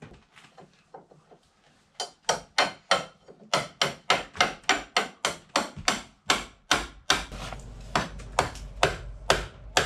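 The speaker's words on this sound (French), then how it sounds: "Comme ça, ça va me permettre de taper dessus sans abîmer le filet." A hammer strikes a nut threaded onto a 16 mm threaded rod for timber framing work, a few light taps followed by a steady run of about twenty sharp, ringing metallic blows, close and without talk.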